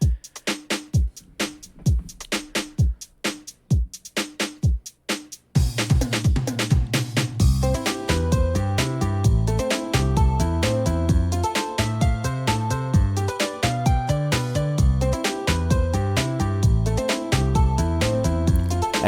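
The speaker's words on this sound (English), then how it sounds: "this like beat that you can play automatically on the keyboard to play it along to" A keyboard's built-in automatic accompaniment beat plays with sparse percussive hits at first, then a full dense pattern of drums and chords kicks in and runs steadily, loud and close, with no voices.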